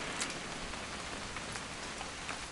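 Steady rain in What Remains of Edith Finch, a continuous even hiss of drops on surfaces with scattered brighter patters, filling the scene without a break and with no voices over it.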